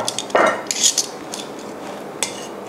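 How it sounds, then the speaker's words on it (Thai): Metal tongs lift spaghetti stir-fried with salted fish from a pan and serve it onto a plate, making a few light clinks and scrapes against cookware with quiet pauses between them, and nobody speaks. "เราก็จะใช้ที่คีบนะคะคีบสปาเกตตี้มา"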